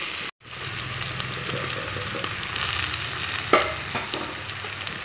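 Tomatoes sizzle and fry in a pan for a fish curry, a steady soft crackle with a brief stir clatter partway through.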